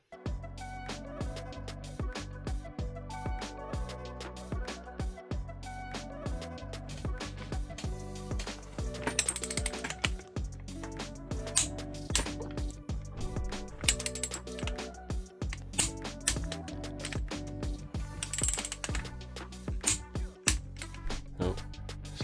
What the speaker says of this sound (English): we can torque them to spec